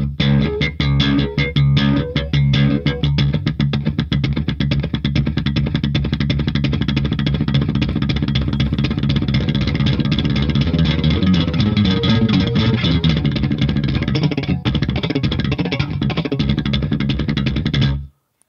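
Electric bass played with a thumping technique, fast four-note groupings on one string, a dense, loud run of percussive plucked notes that continues steadily before ending suddenly.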